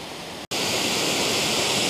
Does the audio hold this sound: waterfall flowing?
yes